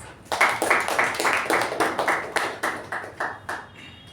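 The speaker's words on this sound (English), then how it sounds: "Please give a huge round of applause." An audience at a Toastmasters meeting applauds. A modest number of hands clap in a brisk, fairly regular rhythm for a few seconds and then taper off.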